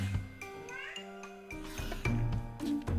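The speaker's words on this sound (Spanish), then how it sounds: "El gato." A cat in the game Jurassic World Alive meows several times in quick succession, clear, near and loud tonal cries, with a brief startled voice after them.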